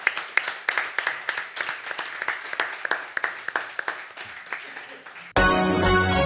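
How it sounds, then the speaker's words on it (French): Studio audience applause on a French radio comedy show, a steady stretch of close clapping that cuts off abruptly into a burst of loud music or jingle at the end. "Je pense qu'on peut vous applaudir."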